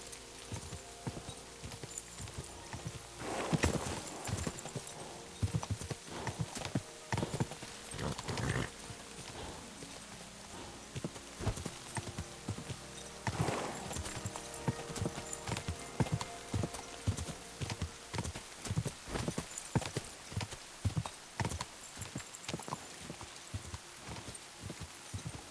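Horse hooves clip-clopping in Kingdom Come Deliverance 2, a steady rhythmic run of hoofbeats at moderate loudness through most of the clip, with the odd faint whinny and no talk over it.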